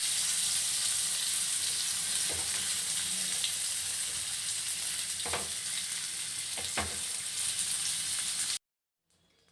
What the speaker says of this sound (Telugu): ఆయిల్లో ఒక్కొక్క చేప ముక్క యాడ్ చేసుకుని ఫ్రై చేసుకోవాలి